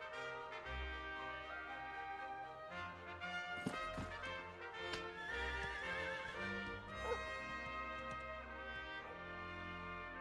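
A horse whinnies in the Dragon Quest XI S video game, with hoof clip-clops behind it and game music throughout, heard faintly without talking.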